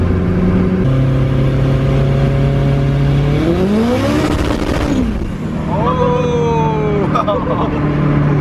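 A car accelerating hard in 4th gear, its engine note climbing steadily and loudly with one shift-like dip and renewed rise, heard from inside with people talking over it.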